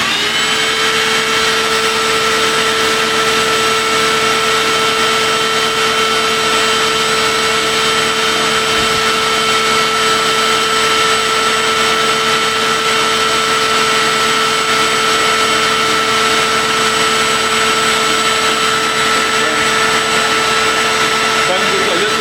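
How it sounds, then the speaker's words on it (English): A vacuum cleaner runs steadily on a 2018 RAV4 engine air filter, giving a loud, constant whining hum with a sharp tonal pitch and no pauses. "So I'm going to vacuum it and put it back."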